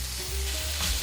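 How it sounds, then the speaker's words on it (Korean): Olive oil, garlic, bacon and onion stir-frying in a pan give a steady, close sizzle that swells slightly near the end, with no talking over it. "올리브 오일, 마늘, 베이컨, 양파 넣고 볶아줍니다."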